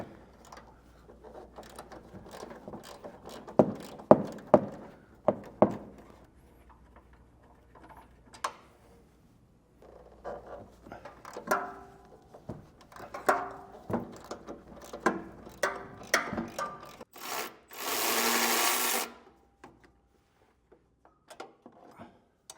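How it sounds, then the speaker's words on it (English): An 18mm socket on a ratchet backs out the tow hook bolts on a 2021 Nissan Rogue Sport, with scattered clicking ratchet strokes close by and a brief louder whir near the end. "Now we go ahead and grab an 18mm and we're going to remove these 3 bolts."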